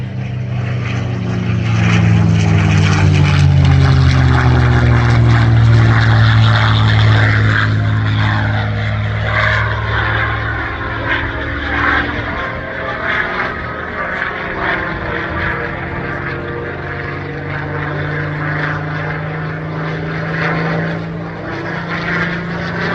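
A restored P-51 Mustang propeller fighter flies past at an air show in Debert, Atlantic Canada, its loud droning engine sweeping in pitch as it passes close, then fading toward a steady distant hum.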